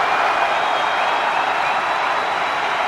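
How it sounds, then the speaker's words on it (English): A large cricket stadium crowd in Lahore roars and applauds during an India v Pakistan one-day international after a big hit by Inzamam-ul-Haq. The sound is a loud, dense, unbroken wall of cheering and clapping. "Crowd erupts."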